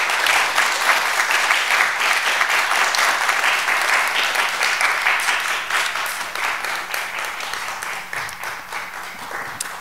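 A lecture audience applauds loudly after a letter reading at a Thursday talk, dense, continuous clapping from many hands that holds steady and then gradually tapers off.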